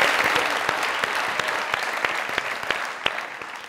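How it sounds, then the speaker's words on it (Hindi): A studio audience at a comedy show claps loudly, a dense burst of many hands with a few sharp individual claps standing out, fading slightly toward the end. "जोरदार तालियां"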